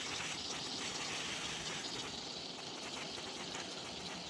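Liquid sprays and hisses steadily to rinse dirt off a car's mass air flow sensor, a continuous close, faint spray with no pauses and no talking.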